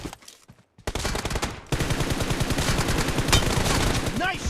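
Gunfire in the mobile battle-royale game PUBG Mobile: after a brief quiet opening, dense rapid automatic bursts rattle on loudly for several seconds, with faint game voices mixed in.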